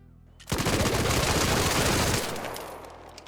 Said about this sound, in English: it'll be interesting to see the difference in the fire rate here in this one